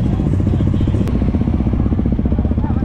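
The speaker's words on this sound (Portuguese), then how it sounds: "as motos estão ligadas" Motocross bikes idling and revving at the start line of an Over 40 cross-country heat, including a Tornado 300, producing a close, continuous throbbing engine rumble with a brief sharp click partway through.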